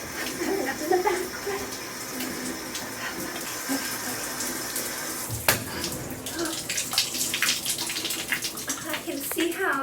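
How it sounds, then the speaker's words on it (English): Shower water runs in a steady, close broadband hiss with small splashes and a brief louder spatter midway, and a faint voice may sit underneath. "I can see how taking cold showers regularly would be good for less water waste because you're getting out so fast."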